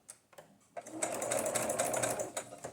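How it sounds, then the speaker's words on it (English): A sewing machine stitches across paper for a junk journal, its needle whirring in a quick, steady rattle at close range after a few short starts. "It's definitely sewing."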